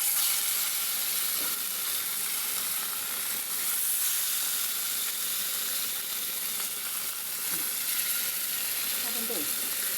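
Fish fries in coconut oil in a pan, giving a steady, close, dense sizzle and hiss that runs unbroken for about ten seconds, with a faint trace of voice under it.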